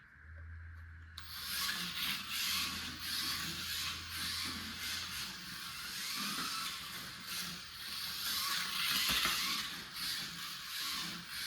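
A 1/43 scale RC car driving at full speed, giving a continuous high whirring, rasping rush from its small motor and wheels, steady and fairly faint.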